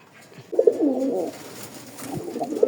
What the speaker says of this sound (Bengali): দেখার মতো এক জোড়া কবুতর আছে।